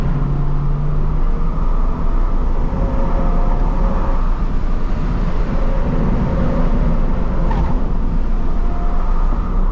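A Toyota GR86 on low-grip tires is driven hard around a race track, its engine a loud, steady roar heard from close by for the whole stretch, with a faint tire squeal only barely showing through the noise.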